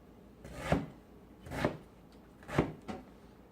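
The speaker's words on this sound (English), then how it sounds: "But first, I have to cut the ginger." A knife chops ginger on a board with three firm, evenly spaced thuds and a lighter fourth cut, close and fairly quiet, with no talking.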